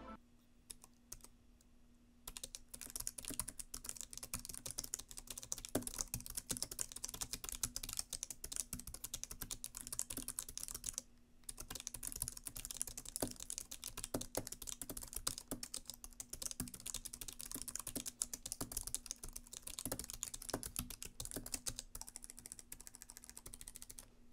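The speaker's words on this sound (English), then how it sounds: "here is a quick typing test of the Razer Blade Pro 4K's low-profile mechanical keyboard" Steady, rapid typing on a Razer Blade Pro 4K laptop's low-profile mechanical keyboard with soft, muted clicks, close up and alone, with a short pause partway through and a faint hum underneath.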